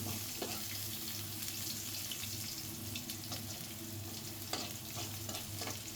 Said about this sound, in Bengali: রসুন কুচির সাথে আমরা একটু এবারে আদা কুচি দেওয়া হচ্ছে